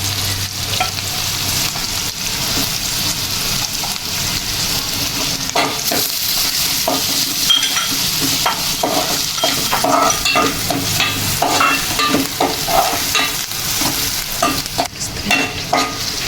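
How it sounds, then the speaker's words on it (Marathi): Onion and garlic fry in a pan and give off a loud, steady sizzle that never stops. Spoon scrapes and stirring sounds break in now and then over the hiss. "आपला थोडा कांदा लाल झालेला आहे त्याच्यानंतर लसूण टाकू"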